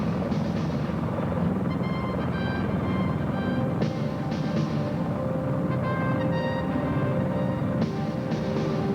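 A CH-53 military helicopter in flight on a special forces insertion exercise with rubber raiding crafts, giving a steady, loud rotor and turbine roar that holds unbroken throughout with no voices.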